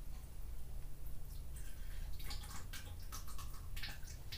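Coolant and oil from a Miata 1.8L engine on a teardown spill and splash into a container. The splashing is steady and fairly close, trickling and dripping throughout with no talking.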